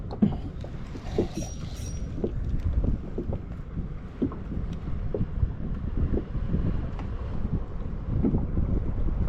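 Wind gusting hard against the microphone while kayak fishing for squid at sea off Ko Saket, Rayong, a continuous rough buffeting rumble with small water knocks against the kayak hull.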